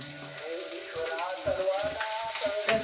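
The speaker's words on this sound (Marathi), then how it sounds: "बघा आता मी स्टार्ट केलेले तळायची" Fish coated in rice flour, semolina and masala fries in a pan with a steady close sizzle and crackle, while someone talks over it.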